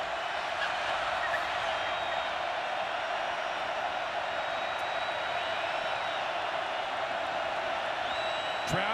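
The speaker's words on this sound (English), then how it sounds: "Crowd here at Lane Stadium letting him hear it." Home crowd at Lane Stadium during a 2019 Wake Forest vs. Virginia Tech college football game, a steady distant roar of cheering and whooping sustained throughout, with a commentator's voice faintly over it.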